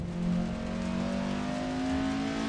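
A car engine drones steadily while driving in a driving simulator game, holding a near-constant pitch with slight rises, close and continuous with no talk over it.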